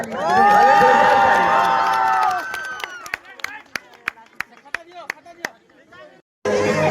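Audience at a Sambalpuri Nuakhai gathering bursts into loud cheering and shouting that swells and fades, followed by a run of sharp, scattered hand claps.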